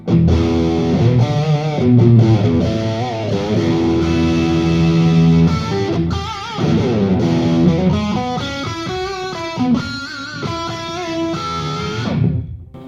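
Heavily distorted electric guitar through a Line 6 Helix Cali Rectifier amp model, playing chords and riffs, loud and saturated, ringing out at the end.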